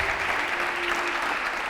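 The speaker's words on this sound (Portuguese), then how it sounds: "Dá um aplauso aí, vamos ficar de pé." A church congregation claps steadily, a dense wash of applause with a faint sustained tone underneath.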